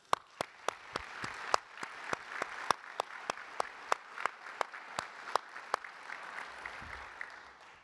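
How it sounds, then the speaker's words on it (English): Audience applause at a Basic Academy law enforcement graduation ceremony: steady moderate clapping from a sizeable crowd, with a few sharp, distinct claps standing out at an uneven rhythm over the softer patter for the whole stretch. "Let's give the family and friends a round of applause"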